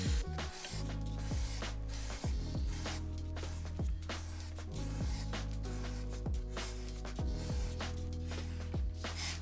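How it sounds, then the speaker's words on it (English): Aerosol chain lube hisses in a long steady spray onto a motorcycle chain and rear sprocket, while the chain ticks and clicks in regular repeating beats as the wheel turns. "shake the can a little bit, and I'm gonna start spraying just over here"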